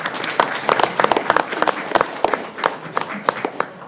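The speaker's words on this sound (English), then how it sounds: "another round of applause for our staff members of the month" Audience applause for staff members of the month at a school board meeting, a steady patter of many hands clapping at moderate distance in an indoor meeting room, continuous for several seconds.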